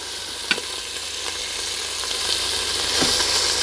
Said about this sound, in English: We're just simply browning them right now.